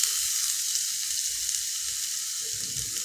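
Crushed pepper, cumin and garlic hit hot oil with fenugreek seeds in a pan and give off a constant bright sizzle, close and steady all the way through, with faint low rumbles near the end and no voices.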